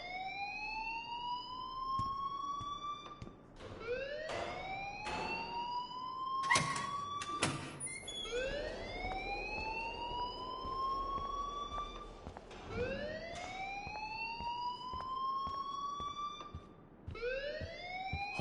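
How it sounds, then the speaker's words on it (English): Repeating rising electronic alarm wails in the video game Life is Strange, several sweeping cycles back to back, loud and continuous with sharp clicks and thuds between them and no talk. "please turn off that alarm since that's your job"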